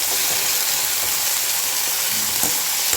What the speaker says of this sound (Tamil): இப்போ இதை நல்லா வதக்கிக்கிறோம்.